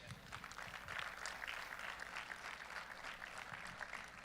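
Faint, steady audience applause in a hall at a powerlifting meet greets a national referee, sustained clapping heard from a distance with a low background rumble.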